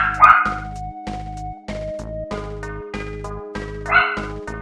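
Dog barking and yipping in short repeated bursts, high and sharp, heard over a looping retro 16-bit video game soundtrack from a SNES title, the barks close and loud against the steady music.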